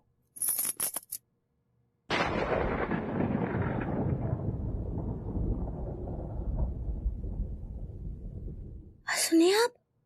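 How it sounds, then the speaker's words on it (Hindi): Thunder in a Hindi TV comedy rolls in as a loud, heavy rumble that slowly fades over about seven seconds, with short sharp sounds just before and after it. "बादल गरजने का बात कर रहे हैं"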